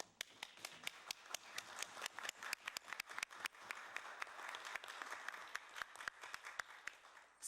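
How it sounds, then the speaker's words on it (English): Applause at a regular meeting of a permanent council: scattered, uneven hand claps from a moderate-sized room, a steady patter with sharper individual claps standing out, lasting throughout. "if you could join me, Madam Chair, for giving these young people a round of applause"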